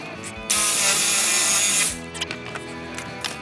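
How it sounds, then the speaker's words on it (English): A jigsaw cuts through wood in one loud, steady burst of rapid buzzing that lasts over a second, then stops, followed by quieter handling noises. "So I'm going to take my jigsaw and make a cut."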